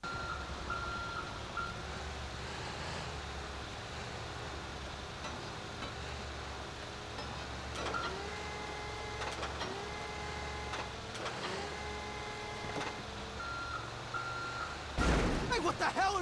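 A tow truck in GTA 5 sounds steady, repeated reversing beeps in evenly spaced bursts over a low engine rumble, moderately loud and close, with a loud burst of noise at the end.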